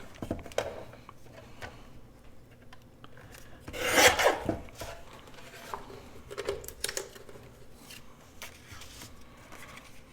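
Paper for a tri-fold envelope pocket is cut with scissors, giving soft scattered snips and rustles with one louder crisp burst near the middle, close and quiet.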